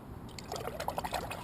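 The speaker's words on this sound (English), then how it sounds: "give them a swoosh around in the water" Freshly peeled ostrich fern fiddleheads being swished around in water, a faint, close trickle and splash that grows into a few brief pouring sloshes.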